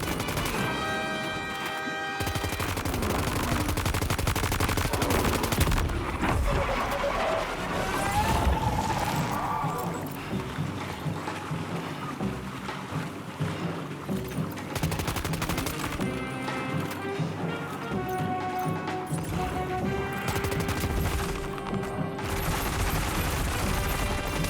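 Friendly gunfire rattles in Death Stranding 2, with bursts of automatic shots and crashing impacts mixed with game music and effects, loud at first and then breaking up over time.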